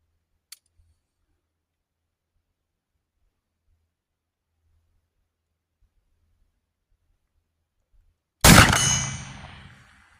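A steel gong rings out once, loud and bright, as a .58 caliber Hawken muzzleloader ball strikes it at about 75 yards, the metallic clang decaying over a second or two after near silence.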